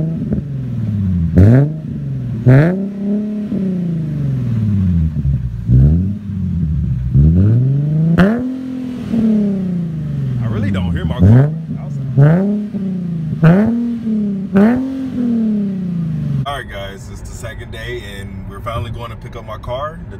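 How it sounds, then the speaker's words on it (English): An Infiniti G37 engine revs sharply again and again in a rhythmic series of quick blips, loud and close, before dropping back to a rough idle. "he's going to give me a couple revs before the test pipes"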